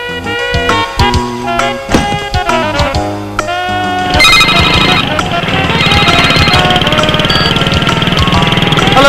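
A telephone rings repeatedly in a scene from an Assamese feature film as a call is placed, with a bright electronic ringing pattern over background music and a low engine-like hum.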